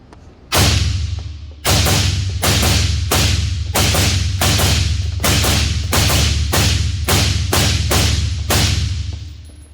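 Suppressed SIG 5.56 SCAR 16 rifle fired repeatedly, a dozen sharp, heavy reports in a steady, fairly rapid cadence, each a loud thudding crack with a short tail, close up with no talking.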